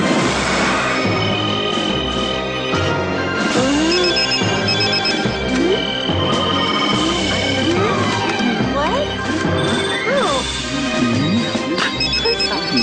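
A cell phone ringtone chimes in a repeating melodic pattern inside a movie theater in a cartoon episode, loud and continuous across the whole stretch, with background film sound and people talking over it.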